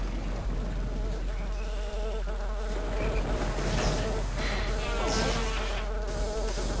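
Mosquitoes buzz in a swamp level of the video game Daikatana, a continuous whining drone that swells and fades as insects pass, over a low steady hum, with no talk.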